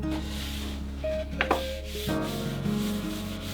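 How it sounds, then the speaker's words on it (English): A cloth rubs excess stain off a wooden bench arm rest in soft, close wiping strokes, with a few light knocks and scrapes over a steady low hum. "I'm just drying it off now, getting all that excess up, just buffering it."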